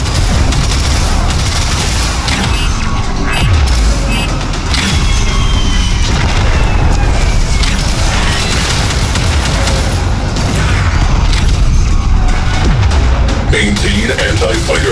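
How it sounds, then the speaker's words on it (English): Missile launches and explosions in Warframe Railjack space combat, a dense, continuous barrage of booms, blasts and gunfire-like crackle, loud throughout with overlapping impacts and whooshes. "Missile launch detected."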